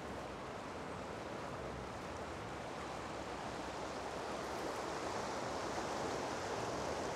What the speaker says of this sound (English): And this here is the Humber River.